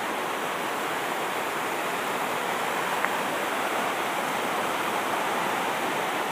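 Caunayan Falls in Baler pours down in a steady, unbroken roar of rushing water, heard up close and alone with no voices.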